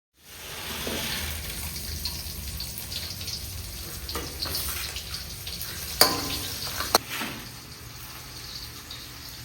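Vegetables are tempered in hot oil, giving a steady, close sizzle that hisses for several seconds, with a couple of sharp clicks of a utensil against the pan.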